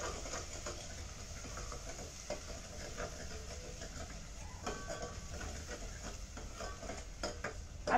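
Flour roasts in a pan for a home-style Marathi khalgut, a faint, steady dry hiss with soft scraping strokes of stirring running evenly from start to finish.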